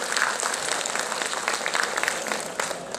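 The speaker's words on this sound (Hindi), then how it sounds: "आपका भी जोरदार तालियों से स्वागत किया जाए" An audience at a protest gathering over the SC/ST Atrocities Act and reservation in promotions claps loudly to welcome an MP, a dense, steady burst of applause holding throughout with faint voices underneath.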